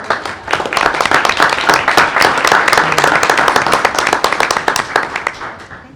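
Audience applause for FFA members at a school board meeting, dense close clapping that swells quickly, holds steady for several seconds, then tapers off at the end.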